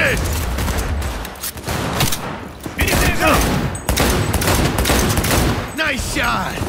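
Dense, continuous gunfire in the video game Cyberpunk 2077, rapid overlapping shots and bursts with explosions, loud and close throughout, with a voice speaking briefly in the middle of the fighting.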